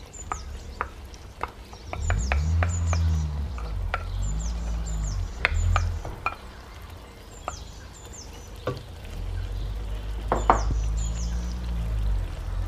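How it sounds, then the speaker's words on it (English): A cup of yogurt is added to a pot of Sindhi biryani with soft wet plops, followed by spoon knocks and clinks against the pot and stirring over a low sizzle and frying hum. "Now we're adding 1 cup of yogurt"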